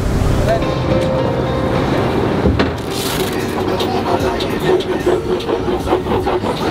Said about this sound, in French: on dirait qu'il y a des petites vagues aujourd'hui